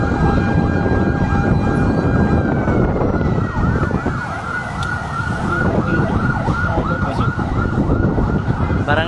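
Fire truck sirens wail continuously at a fire alarm in Tondo, Manila, loud and close with rising and falling sweeps over a dense layer of engine and street noise.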